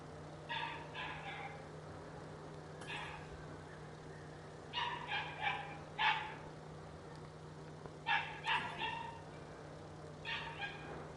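A dog barks indoors at home in quiet, separate bursts of two to four sharp barks, spaced a few seconds apart, over a low steady hum.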